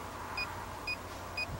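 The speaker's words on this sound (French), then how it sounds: "Dès que ça arrête de biper, c'est remis à 0." Cadart regulation box emitting three short, evenly spaced electronic beeps about half a second apart while resetting to zero, clear over a steady low background hum.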